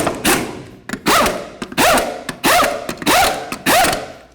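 A torque wrench tightens the rear wheel lug nuts to 150 foot-pounds on a 2004-08 Ford F-150 pickup. Six short, evenly spaced bursts of clicking, ratcheting metal come close and loud, with brief pauses between them.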